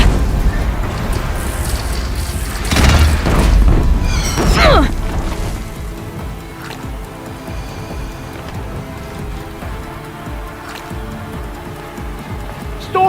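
A Deathbringer machine in Horizon Zero Dawn fires in a loud booming burst of blasts and impacts, which then fade into quieter rumbling game ambience with occasional voices.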